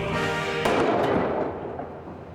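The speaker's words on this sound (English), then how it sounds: "Those Chinese firecrackers pack quite a wallop." Chinese firecrackers go off inside a trombone mute behind blast screens, one sharp loud bang that cuts through a background hum and then decays in a rumbling tail over about two seconds.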